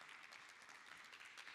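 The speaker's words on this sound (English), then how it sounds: "Round of applause." An audience at an Internet Governance Forum plenary session applauds as panelists are introduced. The clapping is a steady, even wash of many hands, faint and distant, lasting the full short moment with no voices over it.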